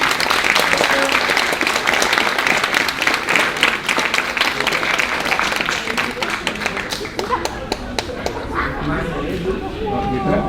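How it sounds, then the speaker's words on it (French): A school graduation awards ceremony for fifth-year secondary students, with an audience applauding steadily and fairly loudly for ten seconds, thinning slightly toward the end with scattered claps and faint voices underneath. "On peut les applaudir."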